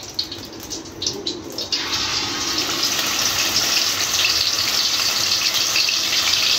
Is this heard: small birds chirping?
no